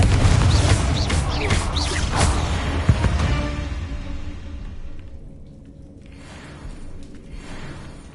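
A booming blast from the Confringo spell in a wizarding video game, a heavy explosive burst with whooshing debris at the start that fades into a low rumble and quieter ambience.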